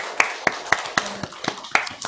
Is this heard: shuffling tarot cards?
no